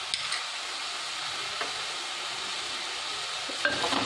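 A mushroom and drumstick leaves curry fries in a pan with a continuous, even sizzle, broken by a few light taps of a spoon against the pan near the start and end.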